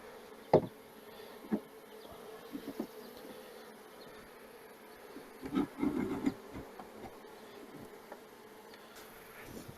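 A honeybee colony in a nuc box gives off a faint, continuous buzz close by, with a few brief louder bumps and knocks scattered over it and no speech.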